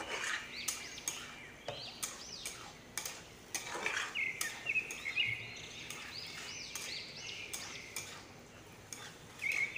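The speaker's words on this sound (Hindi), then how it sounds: "मसालों को अच्छी तरह से भूनेंगे" Spices being stirred and fried in a kadai for a black-eyed pea curry, a spoon scraping and clinking against the metal pan in irregular strokes, with birds chirping in the background.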